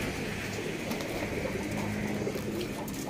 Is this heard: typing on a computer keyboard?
no